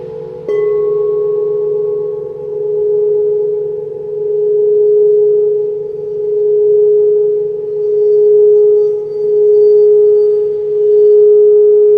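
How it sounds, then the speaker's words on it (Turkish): A crystal singing bowl sustains a pure, steady tone that swells and fades in slow, even pulses, loud and alone. "Bir adet de kristal kase tanıtmak istedim sizin için."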